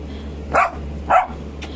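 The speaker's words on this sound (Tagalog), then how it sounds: "Iingay ni Barak, oh." A dog barks while playing: two short, sharp barks about half a second apart, then a fainter third one, set against a low steady background hum.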